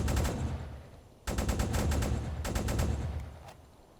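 Anti-aircraft guns fire high-explosive shells at a ship in the submarine game Uboat, in loud, rapid bursts of repeated shots with brief pauses between them and no talking.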